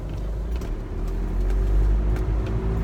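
A cab drives along the road, its steady low engine hum and road rumble continuous and fairly close, with light clicks and rattles inside the cabin.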